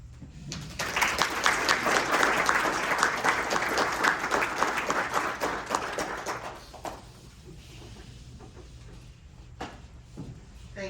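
Luncheon audience at a regional economic development update giving a round of applause: dense clapping for several seconds that thins out and fades to scattered claps and room noise.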